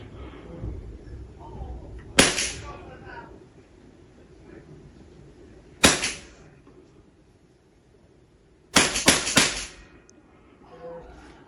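Steyr Hunting 5 Auto air rifle fired several times: two single sharp cracks spaced apart, then three rapid shots in quick succession, loud and close, with quiet talk in the gaps between.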